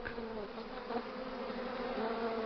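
A swarm of Africanized killer bees hums in a dense, continuous droning buzz, steady and moderately loud with no other sounds.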